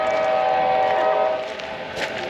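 A passing train sounds its horn loud and close in a long, steady blast that fades slightly, backed by rolling rail noise.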